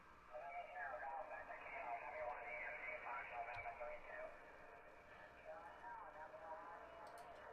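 A faint ham radio transmission relayed by a setting satellite: a weak, muffled voice drifts through steady hiss and static, fading in and out.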